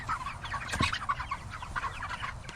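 Chickens clucking close by inside a small-farm chicken tractor, a busy overlapping chorus of short calls with one sharper squawk partway through, steady for the whole stretch.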